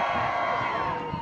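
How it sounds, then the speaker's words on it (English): Crowd on one side of the arena at a medieval fair roars and cheers for a Scottish champion, a dense, sustained wash of many voices at steady loudness throughout. "A mighty Scottish roar indeed."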